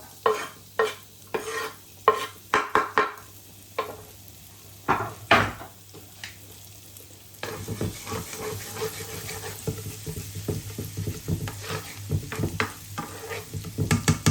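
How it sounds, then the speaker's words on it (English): Chopped garlic fries in a pan for a mushroom dish in crème fraîche sauce: sharp, irregular spatula clacks and scrapes come first, then a steady sizzle rises under continued stirring knocks. "I'm going to throw in my chopped garlic that we chopped earlier."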